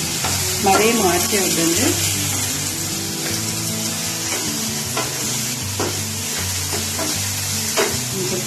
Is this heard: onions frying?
yes